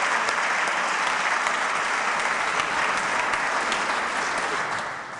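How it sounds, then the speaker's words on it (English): Steady, dense applause from a large audience at a State of the State address, loud and sustained throughout, easing off slightly at the very end. "Now you can clap for that."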